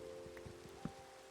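Rain falls in a video game, a soft, steady patter of drops with a few light taps, heard alongside a sustained background music tone at low volume.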